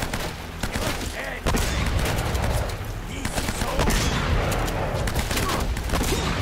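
Repeated gunfire bursts and shotgun blasts ring out in Uncharted: Drake's Fortune, loud and close in a fast, uneven volley, with a faint voice underneath.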